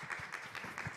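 An audience applauding to welcome speakers at an academic policy conference session, a brief, soft patter of scattered hand claps heard from a distance.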